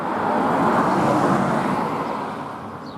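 A car passing on a road in Glastonbury, a loud close whoosh of tyres and engine that swells and then fades over about three seconds.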